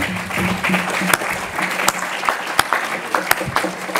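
Congregation in a church service claps in praise of the Lord, lively applause with sharp individual claps standing out, moderately loud throughout.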